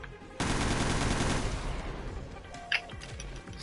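A crouched burst of rapid automatic fire from a weapon in Resident Evil Revelations 2 Raid Mode rings out loud and close for about a second, followed by quieter clatter and a sharp metallic click.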